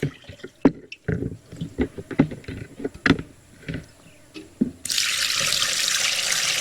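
Liquid banana-peel compost poured through a filter in an organic farming setup, heard as irregular splashes and drips that give way to a steady, loud pouring rush near the end.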